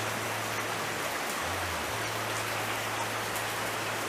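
Steady rain falling on a rainy day, a dense, even hiss of drops on surfaces with a low hum underneath, continuous and unbroken, with no voices.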